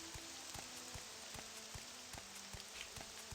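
Rain falls in the video game Morrowind as it eases off, a faint steady hiss of droplets overlaid with regular soft ticking pulses, quiet and continuous with no voices.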